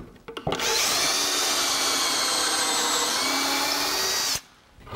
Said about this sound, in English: now we're just gonna drill a hole on the end